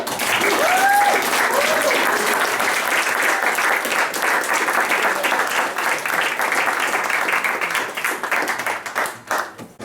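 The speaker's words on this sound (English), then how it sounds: "Can we have another big round of applause for Peter?" An audience at a London animation club screening claps for Peter, a sustained round of many hands at close range that carries on steadily and thins out toward the end, with a brief voice near the start.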